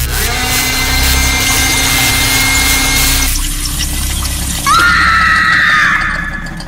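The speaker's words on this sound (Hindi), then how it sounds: "रिया की चीख सुनते ही समीर घबराकर किचन की तरफ दौड़ पड़ा" A loud, piercing scream rises sharply near the end over a dense, dramatic sound-effect backdrop with a constant low hum.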